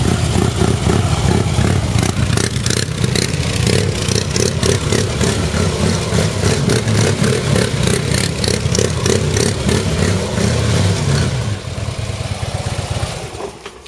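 A motorcycle engine is worked with exaggerated rapid throttle blips through a series of slow turns, a loud, close, rhythmically pulsing rumble that carries on for several seconds before easing off near the end.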